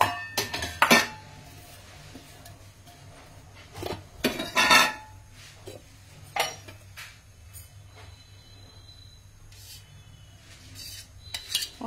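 A non-stick kadhai being handled in a home kitchen, with a few loud metallic clanks and scrapes early on, then quieter intermittent knocks and clinks over a low steady hum.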